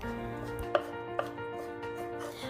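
Knife mincing ginger on a cutting board for Dan Dan noodles, two sharp separate chops standing out over a steady background hum, close and crisp, with no talking.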